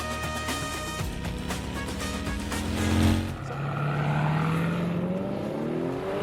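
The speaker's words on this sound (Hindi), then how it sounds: "ये है हार्ले डेविडसन की रोड ग्लाइड" A Harley-Davidson Road Glide motorcycle engine runs at a motor show, with a deep throbbing idle that revs up around the middle and then sweeps down in pitch, loud and close amid a busy, noisy hall.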